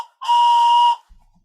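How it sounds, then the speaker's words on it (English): A train whistle gives one loud, steady, shrill blast of under a second, clean and alone with nothing else around it. "He can stop the train if he needs to, and he gets to blow the whistle."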